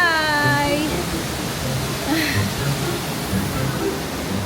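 A waterfall on Taiwan's north coast sends out a steady, dense rushing roar that fills the air evenly, with a brief voice near the start over the constant water noise.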